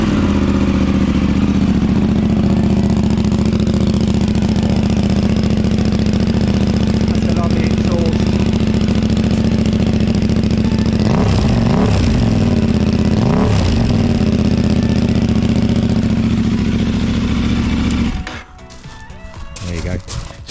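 A KTM motorcycle engine, its exhaust baffle fitted, idles loud and close with a steady burbling rumble, gets blipped a couple of times into short revs, then shuts off near the end.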